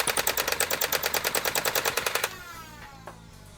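A cheap JakMean 20-round Nerf SMG blasts a rapid full-auto burst of foam darts, its flywheel motors whirring loudly under a steady rattling rhythm for about two seconds before the firing stops and the motors spin down.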